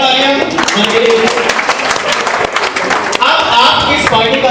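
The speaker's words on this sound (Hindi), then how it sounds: "जोरदार तालियां सर के लिए" An audience claps for a teacher at a student meetup party. The applause is loud, dense and sustained for the whole stretch, with a brief dip near the end before it swells again.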